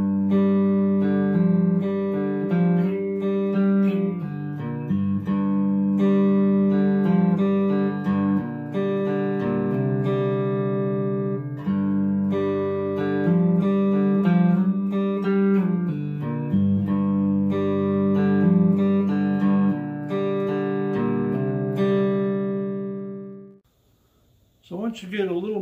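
Cigar box guitar playing a jamming riff, steady plucked notes with ringing strings over a droning bass, loud and close, running continuously before stopping abruptly near the end.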